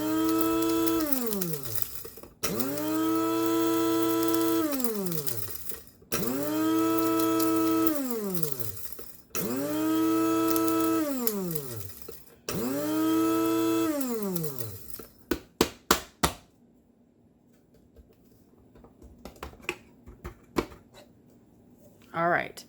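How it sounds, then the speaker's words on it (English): An electric grinder pulverizing dehydrated apple chunks into powder, running in five loud bursts that rise and fall in pitch, with hard pieces rattling inside, then stopping, followed by a few sharp clicks and taps. "as you're grinding this, you will still hear it, the larger chunks like this pinging against your grinder"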